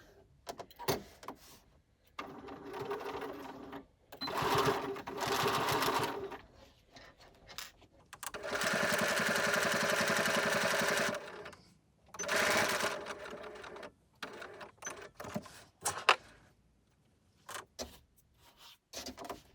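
A sewing machine stitches the seams of a small clutch bag in several close runs, the longest lasting a few seconds, broken by pauses and light handling clicks.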